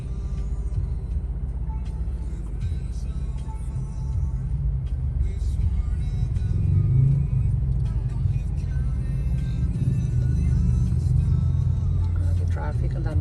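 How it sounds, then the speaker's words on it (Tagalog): Heavy road traffic on a busy street in the Philippines, with a continuous low rumble of cars and buses and engines swelling as vehicles pass, and people talking over it. "Grabe traffic."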